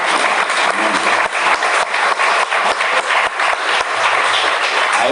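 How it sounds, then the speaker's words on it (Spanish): A church congregation applauds during a Father's Day service, a loud, dense burst of clapping held steady for several seconds with no talking over it. "¿Qué les parece si le damos un aplauso a nuestro Padre celestial?"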